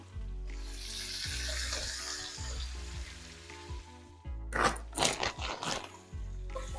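Onions and red peppers sizzle in a hot pan, a steady frying hiss broken by a burst of crackling and stirring clatter near the end, with no talking.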